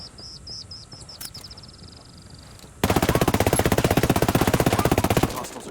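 Rapid automatic gunfire from hostile enemies in the video game Ghost Recon Wildlands, a loud sustained burst of evenly spaced shots following a quieter stretch of lighter clicks and faint ambience.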